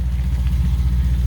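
A Lexus IS F engine idles at steady low revs with the cooling system being bled, a continuous close rumble with no talk.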